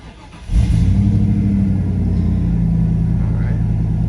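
Ford Bronco engine cranks and catches in a parking lot, a sudden loud rumble that settles into a steady, close idle for several seconds.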